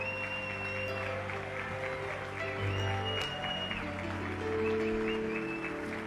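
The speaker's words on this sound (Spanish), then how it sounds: "Y mientras ellos bajan, les damos un aplauso." At a church service, the audience claps as performers leave the stage, a moderate, fairly even patter of applause heard over sustained background music and low room ambience.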